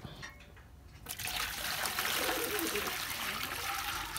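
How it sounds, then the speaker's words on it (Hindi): Water pours steadily into a pigeon's water dish after it is washed and refilled, a continuous close trickling splash that starts abruptly after a second of quiet and runs on at even volume. "ये मैं धो के भरता हूँ यार नया, काफ़ी गंदा हुआ पड़ा पिजन का पानी भी।"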